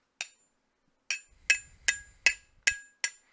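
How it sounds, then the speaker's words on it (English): Seven sharp metallic strikes of a hammer on metal, a single hit then six in a steady rhythm, each leaving a bright, brief ringing tail; close and clear with no talking. "This is metal hitting metal. Sounds like a ringing noise."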